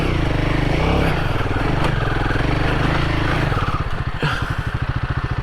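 Royal Enfield Himalayan 450 adventure motorcycle climbing a steep rocky off-road trail, its single-cylinder engine revving loud and close, then dropping to a slow uneven chugging idle with clattering.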